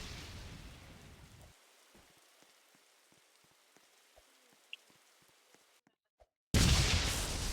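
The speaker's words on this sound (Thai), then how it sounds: "กูรำคาญฟ้าผ่ามากเลยเนี่ย" Rain falls during a jungle hike as a steady close hiss of drops. It cuts out briefly near the end, then a sudden loud, dense roar bursts in.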